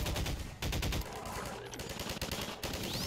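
Rapid automatic gunfire from the video game Half-Life 2 rattles in dense bursts with short gaps, loud and close throughout.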